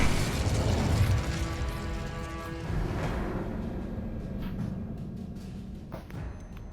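Cast of the Incendio fire spell in the Hogwarts Legacy video game: a loud burst with a crackling whoosh that fades to a low rumble over several seconds.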